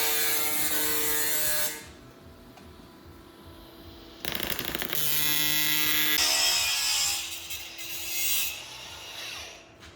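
Old engine piston rings from an Audi 200 20v are hand-sanded, a continuous close scraping and rubbing whose texture shifts over ten seconds, with no talk.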